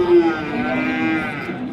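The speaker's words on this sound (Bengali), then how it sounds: "এটা হচ্ছে গির সাইওয়াল এক নম্বর সাইওয়াল" A Gir Sahiwal bull at the Ambari cattle market in Dinajpur gives a loud, close, sustained moo lasting most of the moment, with faint market noise behind it.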